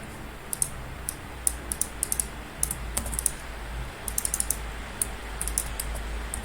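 Typing on a computer keyboard, a quick uneven run of close, crisp key clicks over a steady low hum, with no voices.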